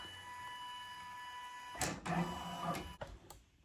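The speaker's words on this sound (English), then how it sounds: "I will go ahead and scan it so I can scan what I have here on my actual machine" An embroidery machine's built-in camera scans the design, a steady faint mechanical hum with a whine, then louder whirring and clunking of moving parts near the end.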